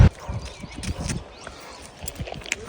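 A young mare of about four to five years walks on hard ground, hooves clopping in an uneven, close rhythm with a few louder knocks amid light background noise.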